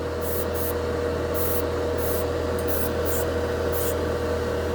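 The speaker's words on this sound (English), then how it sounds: "This airbrush pushes a lot of paint." An airbrush sprays nail polish onto a plastic scale model, giving a steady, close hiss that runs unbroken throughout with a few brief sharper bursts on top and no talking.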